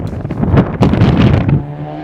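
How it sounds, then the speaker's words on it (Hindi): Strong wind gusts across the microphone outdoors in Winnipeg, Canada, a loud, continuous rushing roar with buffeting swells, alone with no talking. "हवा देख रहे हो यार, कितनी तेज हवा चल रही है"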